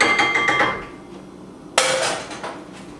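Spoon stirring a thick granola bar mixture in a big bowl, a close run of scraping clinks and knocks against the bowl, with one sharper clank partway through.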